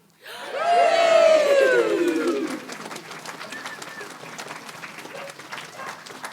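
A crowd at a hospice Lights of Love gathering cheers with rising whoops right after a countdown, then settles into steady applause that carries on moderately loud.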